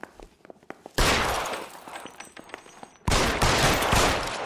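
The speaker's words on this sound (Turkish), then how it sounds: "Shots fired." Gunfire in the police crime game L.A. Noire: after a quiet second, a loud dense burst of rapid shots erupts and runs about two seconds, then a second heavy volley breaks out near the end, close and dominant.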